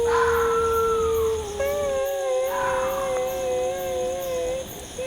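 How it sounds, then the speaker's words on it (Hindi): An eerie, drawn-out crying wail in a ghost story at night, a long, wavering howl-like tone that rises and falls over a steady background hum, with no speech. "अरे, ये रोने की आवाज़ कहाँ से आ रही है?"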